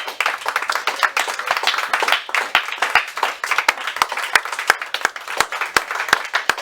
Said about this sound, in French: Je veux qu'on donne une acclamation au Seigneur Jésus-Christ de Nazareth.